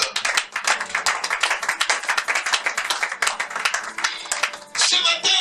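Church congregation clapping in worship to acclaim the Lord, rapid rhythmic hand claps in a steady, lively beat from a crowd, fairly close, with a brief voice or shout near the end.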